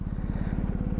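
A BMW motorcycle engine idles close by, a steady rapid low thrum with even, regular firing pulses and no talk over it.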